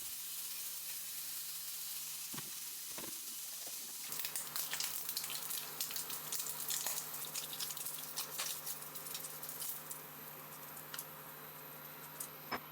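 Bacon fries in a pan for a carbonara until crispy, starting quiet with a couple of faint taps, then breaking into a dense, crackling sizzle full of small pops that carries on steadily, close by and without any talking.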